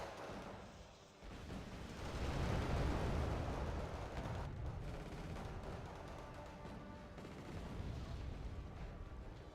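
Bombs blast a KT tank in the Wargame Red Dragon video game, near a forest, as a sustained roar of heavy explosions and gunfire-like rumble swells after a brief lull and carries on loudly, with no speech.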